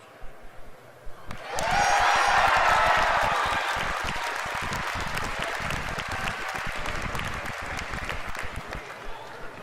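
An audience at a game announcement breaks into loud applause and cheering that swells quickly, peaks, then slowly fades while clapping continues.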